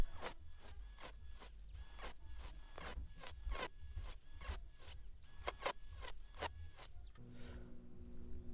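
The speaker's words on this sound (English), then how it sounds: "cutting a nice little fancy tooth pattern in there" Repeated rasping strokes of a file or grinder cutting a fancy tooth pattern into a sheet-metal reciprocating saw blade, steady rhythmic scraping close up, ending in a brief motor hum.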